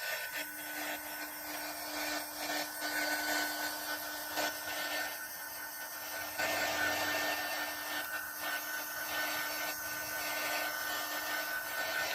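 Hair dryer blowing on freshly painted air dry clay craft, a continuous steady broadband whoosh with a faint tonal hum, held close and constant throughout without speech.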